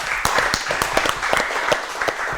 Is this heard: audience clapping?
yes